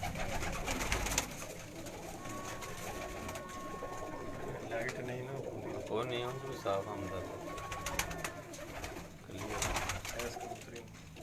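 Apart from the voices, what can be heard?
breeder pigeons cooing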